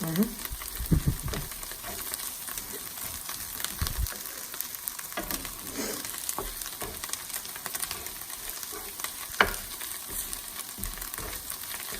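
Hot peppers fry in a pan with a steady, close crackling sizzle, broken by a few sharper pops and stirring clatters, with no talking.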